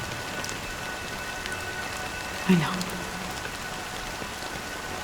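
Steady soft rainfall patters throughout in the video game Honkai: Star Rail, with a brief spoken murmur in the middle.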